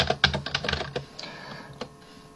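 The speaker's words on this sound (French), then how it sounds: "j'enfonce la touche Shift au clavier" Keys on a computer keyboard are typed in a quick close burst of clicks over the first second, followed by a couple of isolated key presses in a quiet room.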